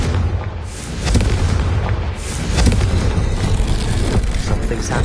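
Confringo blasting spell in Hogwarts Legacy, loud close explosive bursts and booms layered over continuous combat noise throughout.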